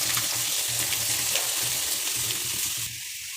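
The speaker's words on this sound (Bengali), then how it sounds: "এই যে এখানে টমেটো পাঁপড় আছে এটা ভেজে নেব" Tomato papad frying in hot oil in a kadai produces a dense, loud, continuous crackling sizzle that drops off abruptly near the end.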